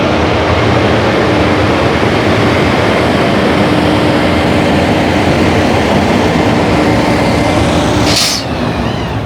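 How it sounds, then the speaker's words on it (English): A seal-coating truck's special nozzle sprayers spray seal coat onto road pavement, a loud, steady broadband roar and hiss that runs unbroken throughout, with a brief sharper burst near the end. "They got the special nozzle sprayers."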